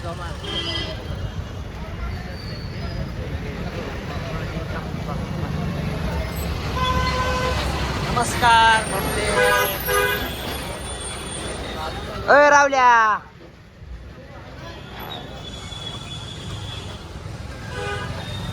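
A brass band's vehicle rolls up a road during a procession in Pimpalgaon Baswant, with steady traffic rumble, a couple of bright horn toots near the end, and people talking over it.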